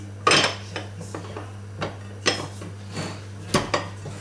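Terrine dish being covered with its lid in a kitchen, a few sharp clinks and knocks of ceramic and metal, spaced irregularly and close by, over a steady low hum.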